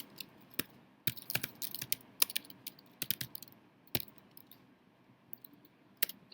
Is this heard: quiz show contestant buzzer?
no